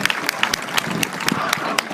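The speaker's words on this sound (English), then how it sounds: "So let's give Roger Sears a very well-deserved round of applause." Audience applause at a high school athletic Hall of Fame induction ceremony, a steady wash of clapping from a crowd with sharper individual claps standing out, lasting a couple of seconds.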